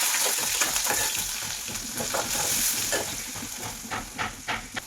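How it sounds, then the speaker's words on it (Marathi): Onion, mustard seeds and cumin fry in hot oil with a steady, close sizzle and crackle, broken by scraping stirs, continuing throughout with no talking. "आता तेल गरम झालेलं आहे आणि आता त्याच्यामध्ये मोहरी टाकलेली आहे अर्धा चमचा त्यानंतर जिरा अर्धा चमचा आणि त्याच्यामध्ये आता कांदा टाकलेला आहे"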